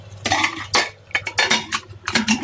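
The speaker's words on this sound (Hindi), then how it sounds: "ऊपर से मैं ढक्कन लगा दूंगी" Metal lid being set onto a pressure cooker filled with stuffed capsicums, a series of sharp clanks and scraping clinks in quick irregular succession, close and fairly loud with no speech.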